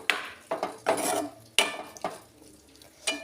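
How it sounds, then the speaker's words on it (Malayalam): Spoon stirring jackfruit avial in a cooking pot, a series of irregular scraping, clattering strokes against the pot with short pauses between, close and distinct with no talking. "നല്ലപോലെ ഒന്ന് ഇളക്കി കൊടുക്കണം"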